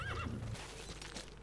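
A horse in Metal Gear Solid 5: The Phantom Pain whinnies loudly and close, a short rising and falling neigh followed by hoof clops.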